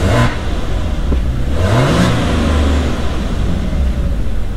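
A Maserati Ghibli 3.0 engine running after a timing chain replacement, with two sharp revs rising and falling over a steady idle, loud and close with no talk.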